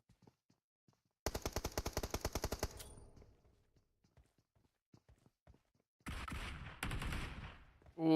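Gunfire in a PUBG Mobile esports match bursts in a rapid machine-gun volley, then falls to sparse faint clicks before a second dense burst of shots and a rising blast near the end, fairly loud and without talk.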